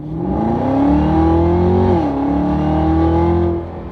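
A 2022 Camaro ZL1 supercharged 650 hp V8 accelerates loudly and steadily, its pitch climbing, dipping briefly at a gear change, then rising again, heard up close with no talking.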